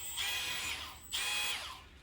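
A Milwaukee M12 Fuel tire buffer runs at buffing speed in two close, high-pitched whirring bursts, each spinning up and then winding down, with no other sounds.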